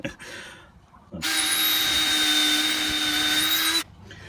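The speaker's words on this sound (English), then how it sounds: "Get a little of this drill action" A power drill without a hammer setting drills into brick at high speed for a few seconds, a loud steady grinding drone that starts abruptly and cuts off.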